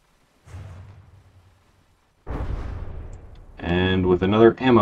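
An ammo hit destroys a cobra vessel in the From the Depths video game with a sharp blast and rolling boom, followed by a second, louder explosion with a ringing tonal tail.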